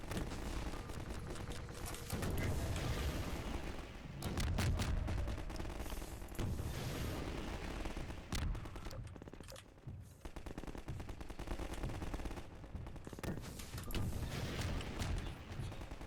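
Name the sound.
gunfire of a firefight in the video game Half-Life 2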